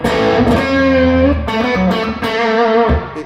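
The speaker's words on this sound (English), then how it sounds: "There's a particular roar that comes off the power amp" Heavily distorted electric guitar notes through a tube amp's power section ring out with a thick, roaring overdriven tone and buzzing harmonics, loud and sustained with a few note changes.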